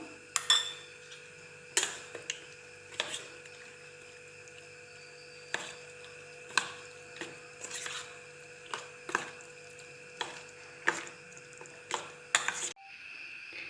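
A spoon scrapes and clinks against a bowl at a steady pace while garam masala and coriander are mixed into a paste, faint and close over a quiet steady hum, with no talk.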